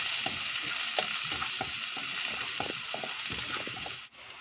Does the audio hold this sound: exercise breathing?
no